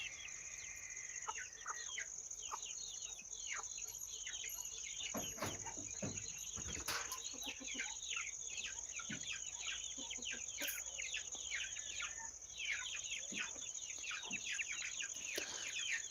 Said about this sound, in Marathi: कोंबड्या कोंडायचा टाइम झालेला आहे आमचा